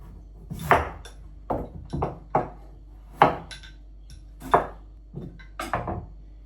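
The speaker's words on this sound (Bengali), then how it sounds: "এই যে এখন লাউটা চিকুন চিকুন করে কেটে নেই" Knife slicing fresh young bottle gourd thinly on a cleaned cutting board, with about a dozen crisp separate chops in an uneven rhythm, close and moderately loud, with no talk.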